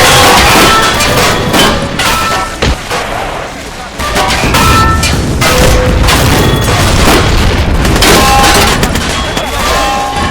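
Relentless artillery fire and booming explosions fill a war video game battle, a very loud, dense barrage of thuds and cracks sustained throughout.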